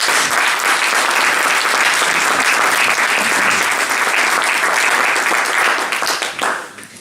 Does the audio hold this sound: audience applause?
yes